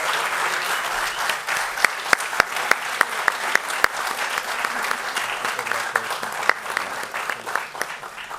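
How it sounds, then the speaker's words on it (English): Audience applause at the Bengaluru International Short Film Festival 2019 awards ceremony, steady clapping from a crowd with sharp individual claps standing out, and voices mixed in underneath. "a round of applause for this super team"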